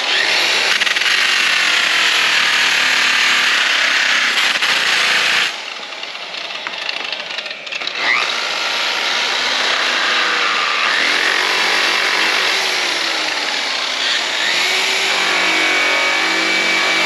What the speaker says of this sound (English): I'm still cutting with the brown rouge and the rough cut